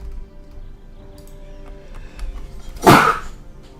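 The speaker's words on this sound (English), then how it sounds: "Sorry, I had to sneeze." A single sharp, loud sneeze bursts out close to the microphone during a strategy-game session on the computer, following a quiet stretch with a faint low hum.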